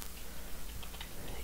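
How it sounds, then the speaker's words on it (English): Slow one-handed typing on a computer keyboard: sparse, irregular light clicks, faint and close, over a low steady background hum. "I'm using one hand, so I'm typing slow because I'm holding the mic in the other"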